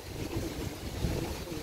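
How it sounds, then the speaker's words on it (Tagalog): Strong, cold wind on a seaside farm rushes and buffets the microphone in a low, steady roar, with a faint wash of sea in the background. "malakas naman yung hangin, malamig dito sa amin"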